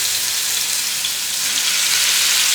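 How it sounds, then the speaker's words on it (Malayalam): Chicken pieces fry in coconut oil in a pan, a loud, steady, dense sizzle that holds without a break. "നമുക്കിത് ഫ്രൈ ചെയ്തെടുക്കാം."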